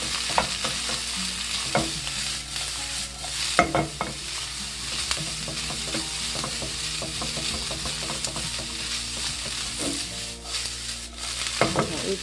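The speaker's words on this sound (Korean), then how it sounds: "달구어진 팬에 도라지를 넣겠습니다." Boiled bellflower root stir-frying in a hot pan with cooking oil and sesame oil, a steady sizzle with repeated scraping and tapping of a utensil, no voices.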